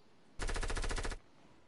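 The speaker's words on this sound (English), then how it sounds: "Gunshots." A burst of rapid automatic gunfire in a video game, close and loud, lasting under a second with evenly spaced shots before cutting off abruptly.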